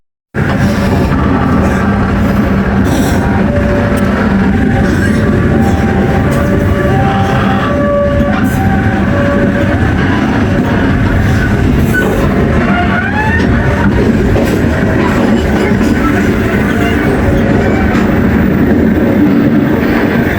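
The Serayu night train rolls along in Indonesia, a loud continuous rumble with wheel clatter and rail noise filling the whole stretch, with faint tonal squeals and brief high notes over the steady roar.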